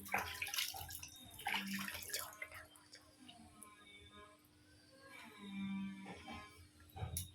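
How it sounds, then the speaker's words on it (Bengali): Water splashing and running while a small child is bathed at home, moderate and close, with soft voices heard intermittently over the sloshing. "তোমরা তো দেখলেই সুমিয়াকে স্নান করালাম"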